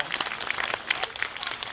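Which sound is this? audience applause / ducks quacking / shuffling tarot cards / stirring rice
audience applause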